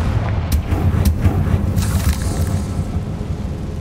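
The Confringo fire spell explodes in the video game Hogwarts Legacy, a deep rumbling boom with a few sharp crackles early on, then a sustained low roar that stays loud throughout.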